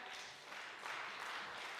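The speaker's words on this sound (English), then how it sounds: "Please, I don't need applause" A town hall audience applauds, a faint, even wash of distant clapping lasting under two seconds with no voices.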